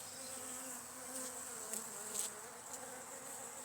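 A small honeybee colony hums in a close, steady buzz under an opened Perspex hive cover, with a few brief louder individual flight buzzes rising above the drone.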